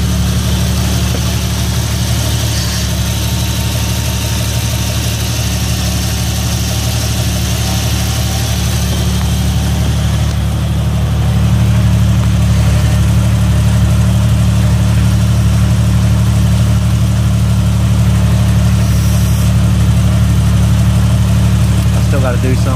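A Jeep XJ fitted with hydraulic assist steering idles steadily and loudly, a constant low engine drone with a slight shift in tone as the steering is cycled slowly.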